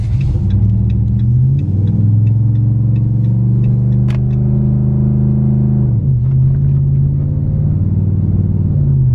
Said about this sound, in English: we got the truck down on the ground, drove around the cul-de-sac as you saw